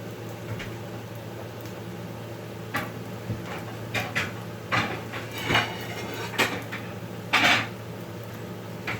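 Dishes and cutlery clink and clatter in a home kitchen as a plate is taken out for serving vegetarian flat rice noodles with eggs, a series of sharp scattered knocks and rattles over a steady low hum.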